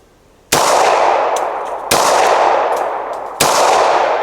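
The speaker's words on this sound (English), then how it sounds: "3 more shots at that same circle" Three loud gunshots fired at a target 10 yards away on a shooting range, each a sharp crack with a long ringing decay, spaced about one and a half seconds apart, close and with no talk.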